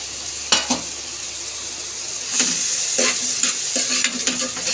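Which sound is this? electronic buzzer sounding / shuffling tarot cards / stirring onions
stirring onions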